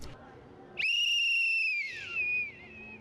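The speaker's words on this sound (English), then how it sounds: "a whistle blows announcing the beginning of school" A loud, shrill whistle blast, blown to signal the start of a school day, holds steady for about a second, then drops in pitch and trails off, with a second shorter tone after.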